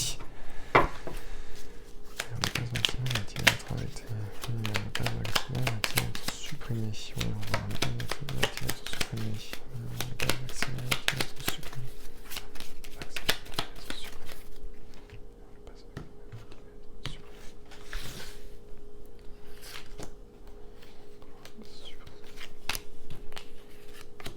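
Tarot-style cards for a reading are shuffled in a rapid run of crisp riffling flicks and rustles, close up, settling into sparser handling as whispered speech continues.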